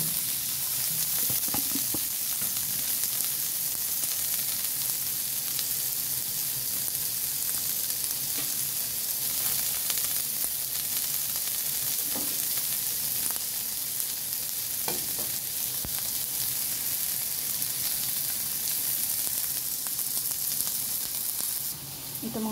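Tomatoes for pakbet, a Filipino vegetable dish, go into a hot pan and sizzle in a continuous, even hiss, with occasional light scrapes and taps from stirring.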